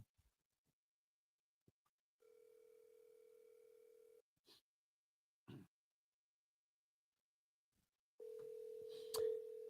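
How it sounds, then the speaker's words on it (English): Telephone call to a home seller: a steady tone rings for about two seconds, a few clicks and taps follow, then another long ringing tone with a sharp click near the end, with no talking. "I'm gonna call right now, Amir."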